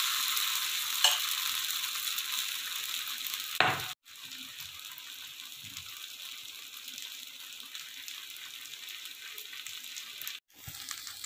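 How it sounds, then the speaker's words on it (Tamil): Wheat masala dosa batter poured thin onto a hot pan, a steady bright sizzle that crackles continuously close up, with a soft scrape midway. "நம்ம இப்போ தோசை ஊற்றி காட்டுவோம். கொஞ்சம் மெலிசாவே ஊற்றுங்க."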